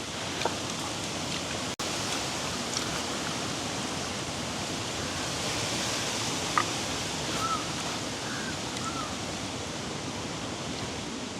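Green beans are washed in running water in a village kitchen, producing a steady, even splashing rush of water with a few small knocks.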